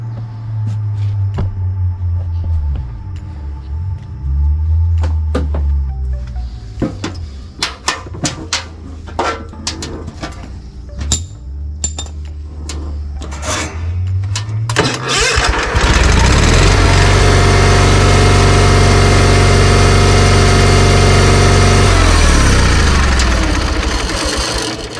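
A lawn mower engine cranks with a few sputtering tries, then catches and runs at a steady, loud drone close by for several seconds before dropping away.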